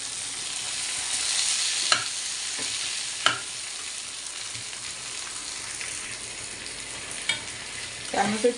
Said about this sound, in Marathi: टॅमेटो टाकून घेऊया टॅमेटो मी बारीक बारीक बारीक छोटे छोटे तुकडेही करू शकता असं चांगलं तेलावर शिजवून घ्यायची आपल्याला